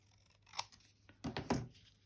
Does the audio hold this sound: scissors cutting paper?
yes